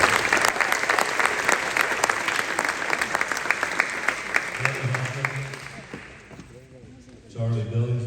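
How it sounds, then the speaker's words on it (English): Enthusiastic audience applause fills a high school sports awards ceremony, dense steady clapping that carries on for several seconds before tapering off, with a voice beginning to speak near the end. "I would really like everyone to give an enormous round of applause"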